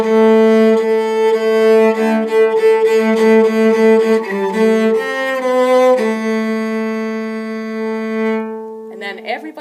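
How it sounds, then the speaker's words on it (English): Solo cello playing a free, unmetered passage, sustained bowed notes with rich harmonics shifting through a slow melodic line, close and alone before fading at the end. "And then there is a solo cello, which sounds like this."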